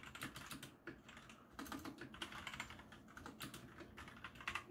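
Fast, steady typing on a Hollow Knight themed mechanical keyboard, its keys clacking in dense close-up bursts with brief pauses, quiet overall and free of speech.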